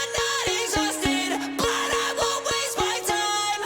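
A MIDI vocal harmony line for a pop punk song, played back as a synthetic tone: a short run of evenly plucked, stepping notes over a low steady drone, clear and alone.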